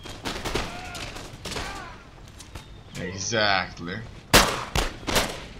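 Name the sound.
musket gunfire in the video game Empire: Total War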